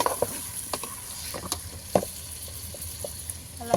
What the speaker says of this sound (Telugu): చికెన్ వేసుకున్న తర్వాత ఇలా కలుపుకోవాలి